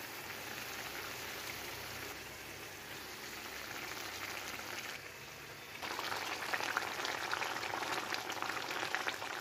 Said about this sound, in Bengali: তো এখন মাছগুলো দিয়ে দেব।